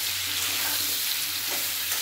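Pieces of elephant foot yam and potato fry in a pan with salt and turmeric, giving a dense, continuous close sizzle with faint stirring, and no one speaks.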